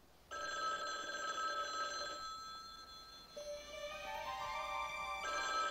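A telephone rings with a bright electronic trill, rising and falling in repeated bursts, fairly faint and steady over a quiet room with no talking.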